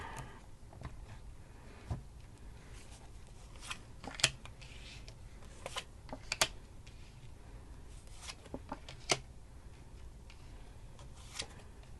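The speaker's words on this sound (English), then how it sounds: "let's just cut the deck and see what we see" A deck of tarot cards is cut by hand: soft, quiet rustling with a few crisp card snaps and taps spread across a near-silent stretch, with no talking.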